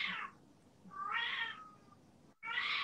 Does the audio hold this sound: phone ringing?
no